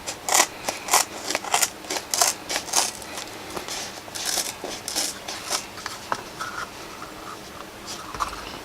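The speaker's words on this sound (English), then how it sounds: "just a decent pair of scissors actually cuts it probably better and easier than that did" Crisp snipping and scraping of scissors cutting through a stiff Kydex plastic sheet while making a holster, a series of irregular short cuts close by with some rustling handling.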